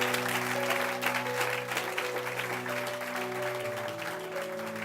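A church congregation applauds and cheers in a broad, sustained wash of clapping while a held organ or keyboard chord sounds underneath, the level easing slightly toward the end.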